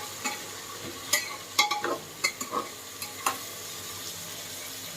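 Ingredients for bisibele bath fry in a pan, with a quiet background sizzle broken by a scattering of sharp spoon taps and scrapes during stirring, close by and with no speech.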